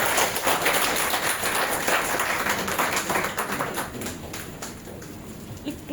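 Audience applause for Nasrin Jahan at a literary discussion event, a dense wash of many hands clapping that holds steady and then eases slightly toward the end.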